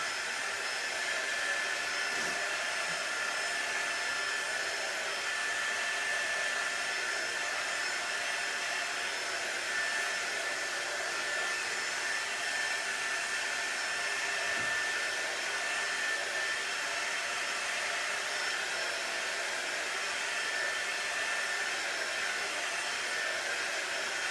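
A hair dryer blows steadily to dry ink on small black fluffy craft stuffies, a continuous close whooshing drone that runs unbroken with no speech.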